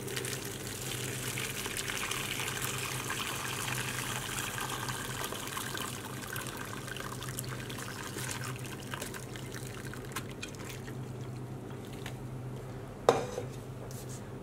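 Lemon and rose water sharbat pours through a strainer in a kitchen, a steady close trickling and splashing of liquid with faint clinks of utensils, ending in one sharp knock.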